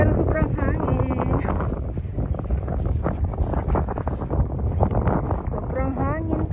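Strong wind buffets the microphone in loud, continuous gusts while voices speak underneath.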